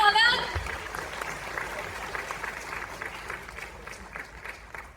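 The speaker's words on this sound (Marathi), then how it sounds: "जोरदार टाळ्या हव्या।" Audience clapping at a Diwali Pahat felicitation event held by the Saswad journalists' association, a broad crowd applause that starts strong then gradually thins and softens, with a voice speaking over it.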